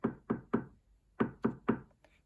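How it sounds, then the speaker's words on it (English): Knocks at a palace door come in two quick sets of three, crisp hollow raps evenly spaced with a short pause between groups, close and clear in a quiet room. "Suddenly, there was a knock at the palace door."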